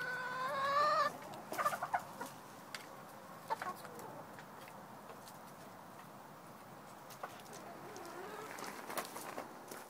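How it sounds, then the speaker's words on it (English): A hen squawks loudly up close at the start, followed by scattered soft clucks and quiet farmyard ambience. "There's my chickens."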